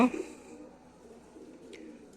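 Pigeons kept for racing cooing, a brief burst of throaty coos at the start followed by soft, low continuous cooing in the background with a faint chirp.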